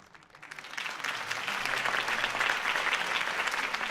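Crowd applause at Harvey Dent's campaign rally in Batman: The Telltale Series swells in from quiet within the first second, then holds as a loud, dense roar of clapping.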